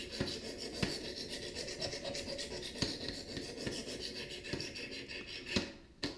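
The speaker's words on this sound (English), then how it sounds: "I've got my 100 grit stone to start off on this one, is I'll just work one side for a little bit." Steady rasping strokes come from a knife blade worked against a 100 grit stone on a Wicked Edge sharpener, close and fairly quiet, in an even back-and-forth rhythm.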